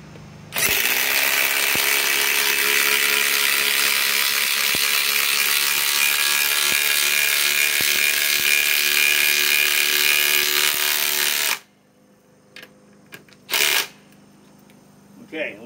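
A cordless impact wrench drives a six-inch lag screw into pre-drilled wood with a loud, continuous rattling hammer for about eleven seconds, followed by brief clicks and handling noises.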